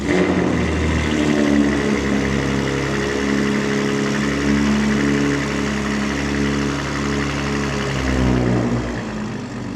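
A loud, deep engine of a modified BMW G80 M3 rumbles steadily nearby as it pulls up, with a low throaty drone that swells slightly as it revs.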